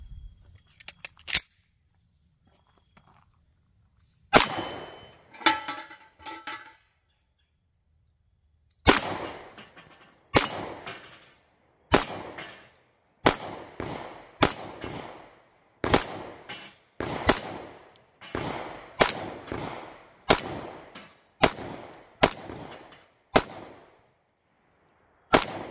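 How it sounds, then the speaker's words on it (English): Sig Sauer P365 X Macro pistol, non-compensated with manual safety, fired slow and steady at bowling pins from 15 yards outdoors; about fifteen sharp single shots spaced roughly a second apart, loud and close, with faint insect chirping between. "So we'll do a slow, steady fire back here at 15 yards and see if we can pick these off without missing."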